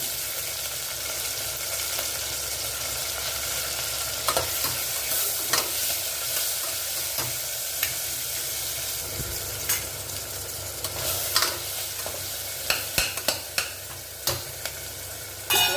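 Onions, two tomatoes and dried mint powder fry in a pot for a seeraga samba veg biryani, a continuous close sizzle broken by occasional spoon scrapes and light clinks, with no talking.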